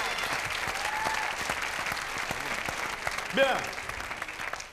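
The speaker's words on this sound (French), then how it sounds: "J'aimerais qu'on l'applaudisse avant, parce qu'on n'est pas sûr de pouvoir le faire après." Audience applause for Gérard at a comedy show, a steady moderate clatter of many hands under a presenter's voice, with a brief spoken word near the end.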